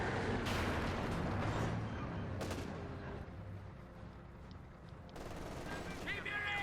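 Dense, continuous battle ambience from Company of Heroes 2, with tank machine gun bursts from a Panther rattling among overlapping gunfire and rumbling explosions throughout, a commentator's voice faintly present beneath the din.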